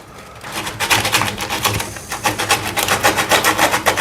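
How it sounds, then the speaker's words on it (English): Repeated rasping strokes of sanding on a hard metal surface, a brisk rhythmic scraping heard close up. "And commence the sanding."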